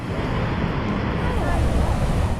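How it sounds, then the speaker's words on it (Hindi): Flood water after a cloudburst in Kullu rushes in a loud, continuous torrent, a dense roaring wash that stays close and unbroken, with some wind buffeting. "अचानक पानी का तेज बहाव पूरी रफ्तार से पहाड़ से नीचे उतरा"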